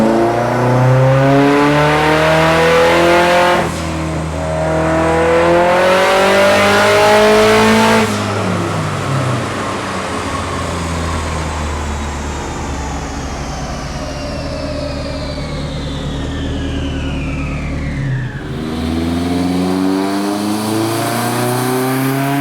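Datsun 510 with a Mazworx-built turbo SR20 engine on a dyno, loud and close, revving hard through rising pulls, then winding down with a long whining coast before picking up again.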